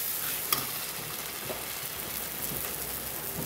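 A masala of ginger, garlic and onion fries in a pan while being stirred, giving a close, continuous crackling hiss with one sharp clack near the start.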